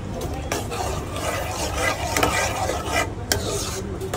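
Cashew gathiya curry being mixed with fresh coriander leaves in a pan, a steady scraping stir with soft sizzle underneath, continuous and close, with faint talk in the background.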